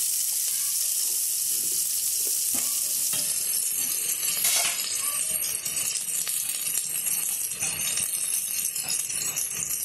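Onion and tomato fry in a pan with a steady, loud sizzle that runs the whole time, with a few faint clinks and stirring scrapes and no talking.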